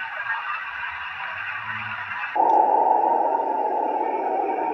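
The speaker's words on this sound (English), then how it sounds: "That's what the ocean waves sound like." Cloud b Sleep Sheep plush toy playing its ocean waves setting: a soft, broad whooshing wash that deepens partway through, continuous and close, with no talking.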